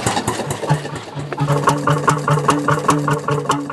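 An early diesel engine, burning diesel oil ignited inside the cylinder, coughs and then settles into a loud, regular thumping idle close by, with no voices.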